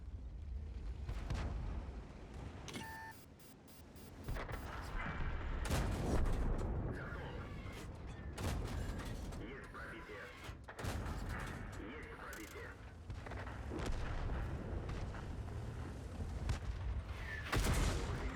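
Tank cannon shots and shell impacts from a tank combat video game, including a hit from a Nashorn tank destroyer, boom repeatedly in loud bursts over a dense battle din, with a voice talking briefly.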